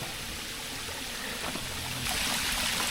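Water flowing along a man-made stream at a resort in Saraburi, Thailand, heard as a continuous close rushing trickle that swells louder near the end.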